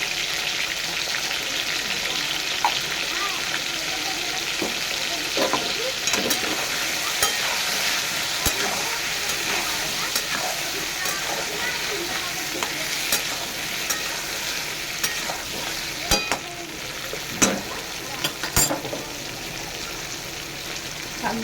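Whole pointed gourds (potol), seasoned with salt, turmeric and a little sugar, fry in a pan for a mustard-poppy dish: a steady, close sizzle with scattered scrapes and clicks of stirring throughout, no voices.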